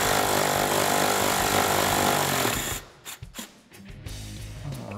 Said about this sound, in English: I'm just using a 13 millimeter socket on an extension and an impact gun